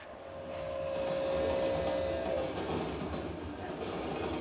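A train runs along a railroad, a loud, steady rolling rumble with a brief sustained tonal whine in the first half, heard alone without voices.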